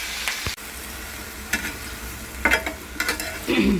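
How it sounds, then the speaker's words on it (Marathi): Potatoes frying in hot oil in a pan on a gas stove, with low crackling sizzle and a few brief stirring scrapes, gaining a louder bubbling burst near the end. "गॅस कमी करा आणि मग हे सगळे बटाटे त्यामध्ये आपण टाक टाकायचे"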